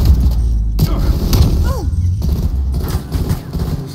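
Rapid bursts of loud gunfire and booming impacts from a Call of Duty match fill the clip, dense and continuous, with brief German voices mixed in.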